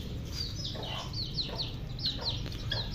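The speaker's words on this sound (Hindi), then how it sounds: "ये मुर्गी के बच्चे भी आए हुए हैं, इन्होंने भी खाना शुरू कर दिया।" Chickens and chicks cluck and peep in short, scattered calls while eating wheat grain, over a low background rumble, several birds close by.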